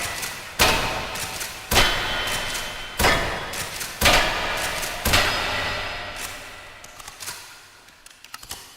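Loud, booming blasts from an M870 pump shotgun in a video game, five heavy shots spaced about a second apart, each with a sharp attack and a long rumbling decay, followed by fainter clicks and handling noises.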